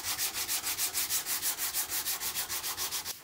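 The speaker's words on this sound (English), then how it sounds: "I'm just gonna burnish the super glue with sandpaper even before it's dried" Sandpaper rubs a wooden guitar headstock on a Gibson Les Paul Junior build, burnishing super glue that has not yet dried. The strokes come close and loud in a steady, even back-and-forth rhythm, about five per second, with no talk.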